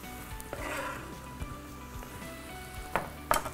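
Onions and meat frying in a pan for tas kebabı, a soft steady sizzle with a few stirring scrapes and light clinks near the end.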